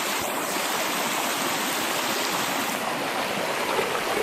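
Stream water flowing steadily outdoors, a loud, continuous rushing wash close by with no break.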